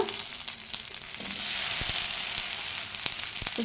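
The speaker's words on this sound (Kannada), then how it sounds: "ಸೊ ಇವಾಗ ಒಂದು ಹಂಚು ಮೇಲೆ ಹುರ್ಕೋಬೇಕಾಗುತ್ತೆ ಬೆಂಡೆಕಾಯಿನ ಎಲ್ಲವನ್ನು ಕೂಡ." Cut okra (bhindi) frying on a hot flat griddle pan, giving a steady close sizzle with a few soft crackles and stirring clicks, no voices.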